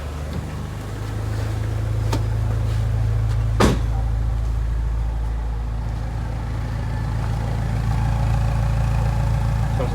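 Steady low rumble of a 1991 Toyota Corolla DX engine idling, close and continuous, with a brief sharp knock partway through.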